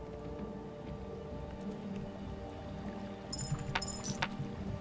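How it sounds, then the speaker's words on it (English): Rain falls steadily in the video game Kingdom, a soft continuous patter under a low ambient hum, with a few sharp bright clinks near the end. "And it's raining."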